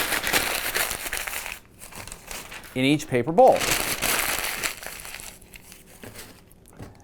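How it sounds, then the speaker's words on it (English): Newspaper being crumpled into a ball gives crackling, crinkling paper noise in bursts, mixed in with a person talking. "You're going to take a newspaper, crumple it up into a ball"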